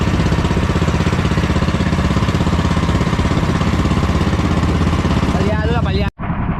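Small engine running with a rough, uneven chugging idle and irregular missing beats, loud and close throughout, with voices talking over it near the end before it cuts out abruptly.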